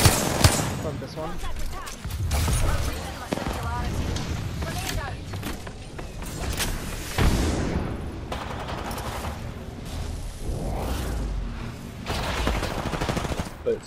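Gunfire in a battle-royale video game, scattered shots and short bursts mixed with busy game effects and a moderately loud, shifting background, with a player's voice talking over much of it.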